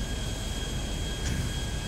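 A stolen airplane flying in GTA 5, its engine a steady, loud, even roar that fills the whole stretch with no pauses.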